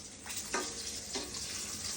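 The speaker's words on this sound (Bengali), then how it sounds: "মাছ ভাজা আমার অলমোস্ট শেষ" Sarpunti and koi fish from the Meghna river frying in a pan: a dense, continuous close sizzle with a couple of brief louder crackling bursts, no talking.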